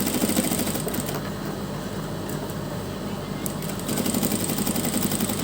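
Sewing machine stitching lace along a marked neck design on a garment, a steady close rapid whirring hum that swells slightly toward the end.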